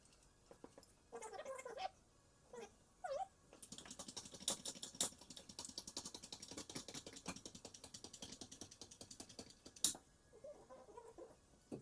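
A wrench is worked on stuck bolts during floor repair on a 1994 Suzuki Sidekick, with the handle lengthened by a second wrench. It gives off a long run of quick, close metallic ratchet clicks, with a few softer scrapes and knocks before and after.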